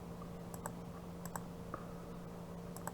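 Mouse clicks and keyboard taps while drafting in AutoCAD, a few sparse, sharp, close clicks scattered over a quiet steady hum, with no speech.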